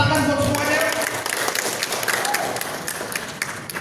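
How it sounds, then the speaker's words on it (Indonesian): Crowd applause at an Indonesian youth-organisation Youth Pledge ceremony, a broad continuous patter of many hands, with a voice talking over it at the start. "Kita tepuk tangan buat semuanya."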